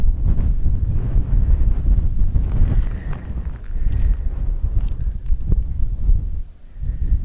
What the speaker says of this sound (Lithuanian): Vėjas nesilpnas, bet šiltas.